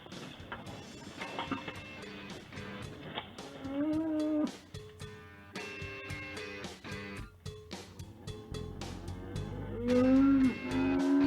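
A cow on the loose lets out a couple of drawn-out moos amid a busy, cluttered mix of other sound, with the louder, longer call coming near the end.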